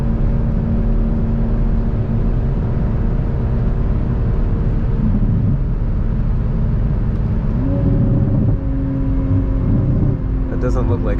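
A 500 HP 2022 Toyota Supra engine while driving at night, a loud, steady droning engine tone heard from inside that rises in pitch a couple of times as it accelerates.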